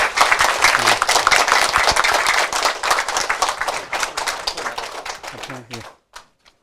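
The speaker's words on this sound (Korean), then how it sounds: "김명기 박사님을 뜨거운 박수로 환영해 주시기 바랍니다" An audience at a Buddhist temple dharma talk gives sustained, dense clapping to welcome a lecturer, steady and loud for about six seconds before tapering off into a few scattered final claps.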